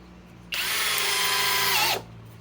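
A Flex FX1231 compact hammer drill on a 3.5 Ah stacked lithium battery, run at speed 2, drives a 4-inch timber lock screw. It gives one loud, steady whine lasting about a second and a half, rising slightly in pitch before cutting off abruptly.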